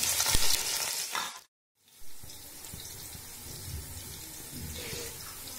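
Onions frying in hot ghee give a loud, close sizzle that breaks off into a short gap of silence and then returns as a steadier, softer crackle. No one speaks.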